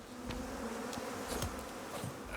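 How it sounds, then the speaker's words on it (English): Bees swarming around beehives in the survival video game Icarus, a dense steady buzzing drone with a few sharper passes close by, no talk. "No, you can't shoot the bees. You cannot shoot the bees."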